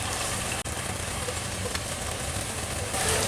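Hilsa fish fry in hot oil in a pan, a steady, dense sizzle that holds evenly throughout with one brief dropout near the start.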